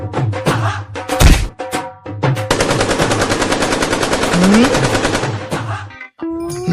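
Gunfire fired into the air comes as a long, loud burst of rapid automatic shots after a few scattered single cracks, with voices and other noises before and after.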